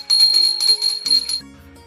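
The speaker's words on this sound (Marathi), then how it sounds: "घंटी वाजून ओवाळून घ्यायचे" A small brass puja hand bell rings rapidly during Ghatasthapana worship, with bright metallic clangs for about a second, then its tone fades into a lingering, lower hum.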